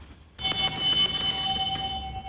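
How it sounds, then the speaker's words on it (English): Metal bell struck once, a bright ringing tone that sustains and slowly fades over two seconds with a second lighter strike near the end, close and clear with no talking. "When a bell rings,"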